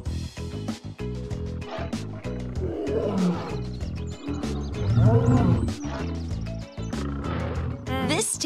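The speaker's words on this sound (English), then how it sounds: "This tail belongs to a lion." A lion's roar in a children's animal-finding game, loud and rolling in two swells under busy background music.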